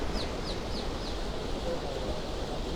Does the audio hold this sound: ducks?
yes